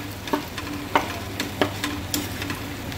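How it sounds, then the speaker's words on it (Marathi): Boiled potatoes are mashed with a spoon in a bowl, producing a series of soft, regular thumps and scrapes about every half second over a low, steady background hum. "बटाटे असे चमच्याने बारीक करून घेतले तरी चालेल"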